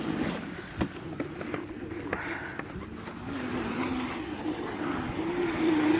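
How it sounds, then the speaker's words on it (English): A small engine revs and drones as a mini dirt bike does burnouts in snow, its moderate, wavering hum rising slightly toward the end, with a sharp knock early on. "Yet some more burnouts."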